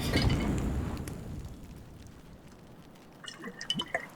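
Water pours out in the video game Book of Hours, a soft rushing splash that fades gradually, followed by a few light drips and clinks near the end.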